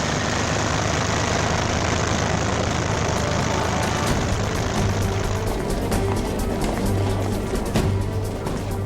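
Transport aircraft of the German Luftwaffe on an airlift to southern Spain during the Spanish Civil War, their engines a loud, steady, continuous drone with no pauses.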